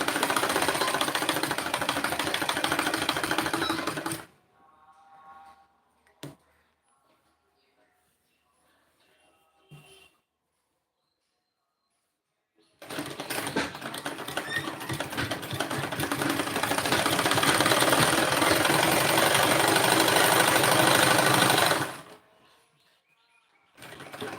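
Sewing machine stitching a salwar seam, two long stretches of steady, loud mechanical whirring separated by a quiet pause with a few faint clicks and brief sounds.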